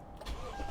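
A 2016 Toyota Sequoia Platinum with a 5.7 liter V8 turns over and catches, a brief low rumble rising from the start, heard close and alone.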